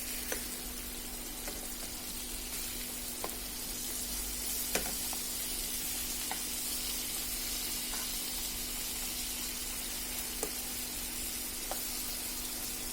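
Sweet pumpkin slices fry in a pan with an even, soft hiss of oil that holds steady throughout, dotted with occasional small pops and a constant low hum in the background.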